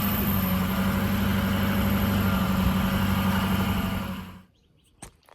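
Kawasaki Teryx UTV engine runs hard and steadily with a loud low drone, then cuts off abruptly near the end, followed by a brief knock in the quiet garage.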